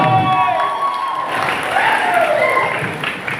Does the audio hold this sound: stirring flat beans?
no